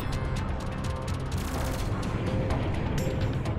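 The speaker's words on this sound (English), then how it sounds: "two-shot somebody with the big, powerful cannon." A powerful plasma cannon fires in the space combat game Strike Suit Zero, with dense booming bursts and crackling blasts over a constant loud roar of action, and no voice over it.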